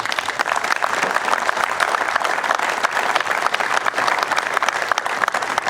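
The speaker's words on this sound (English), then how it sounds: "Give them a nice round of applause." Crowd applause rings out at the official opening of a stadium enclosure at a football ground, honouring former players; continuous, dense clapping at an even, loud level from start to finish with no voices on top.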